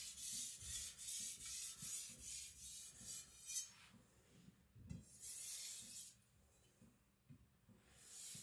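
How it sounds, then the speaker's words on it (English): A custom Chinese cleaver is drawn lightly across a sharpening stone to form a micro bevel, giving soft, close rasping strokes in a steady back-and-forth rhythm with brief pauses. "Just barely the weight of the blade, just creating a micro bevel."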